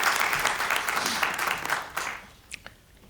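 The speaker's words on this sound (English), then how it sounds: "You see a hearty applause" Audience applause at an Arangetram: a dense, loud burst of clapping that fades out after about two seconds, leaving a few scattered late claps.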